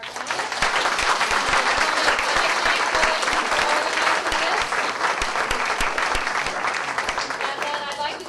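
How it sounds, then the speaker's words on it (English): An audience at a community forum gives its panelists a long, steady round of applause, dense and close, with a few voices faintly audible near the end. "Can we have a round of applause for our panelists?"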